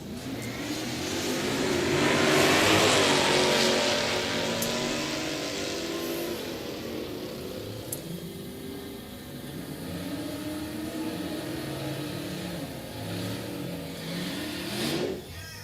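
Drag race between a 2016 GT and a 1972 Monte Carlo, engines rising and sustained in a long distant roar that swells then steadily drones before fading.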